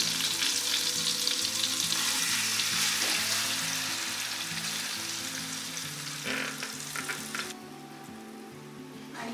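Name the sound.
marinated mutton added to hot pan, sizzling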